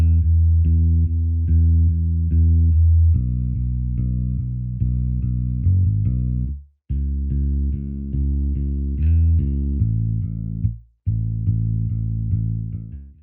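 A bass guitar run through Line 6 Helix Native and Waves Vitamin plugins plays a sustained, warm, effected line of held notes with brief breaks between phrases, loud and alone.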